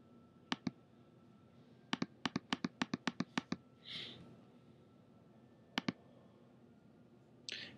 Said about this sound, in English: We click.